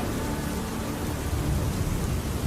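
Cartoon storm sound effect: heavy rain pours steadily with deep rumbling thunder underneath, dense and unbroken for a couple of seconds, with no voices.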